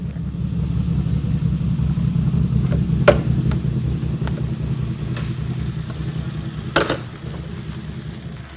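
Ferrari Testarossa engine running, a steady low rumble heard from inside a truck, with a few sharp clatters and knocks over the continuous drone.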